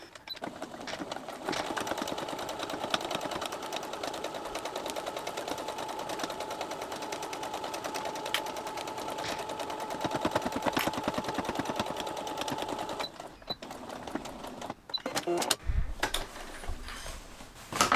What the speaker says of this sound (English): we're gonna just sew straight line on the edges about 1 centimeter